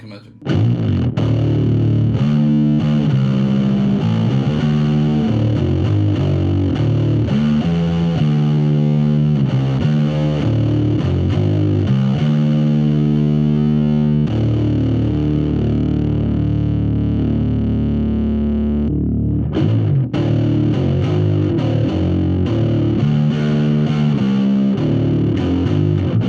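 Bass guitar run through a Fuzzarocious fuzz pedal blended into an MBD2 distortion pedal, playing a thick, heavily saturated and sustained riff with gritty overtones, loud and continuous for the whole stretch with only a brief dropout near the end.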